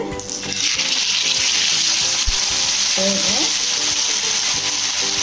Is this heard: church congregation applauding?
no